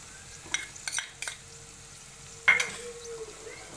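Roasted gram flour being stirred into dried-out oil in a pan for Punjabi-style paneer bhurji, with a few short scraping strokes and a louder scrape near the end over a faint sizzle.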